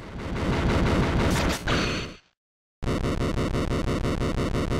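Megaman Battle Network 5 battle with dense, rapid electronic shooting blasts pulsing loudly, cutting out to a brief silence before the steady repeated firing resumes.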